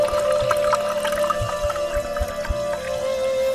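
Tassay mineral water pours into a glass, a bright, ringing splash and gurgle with small bubbling drops, close and clear over a few seconds with no talking.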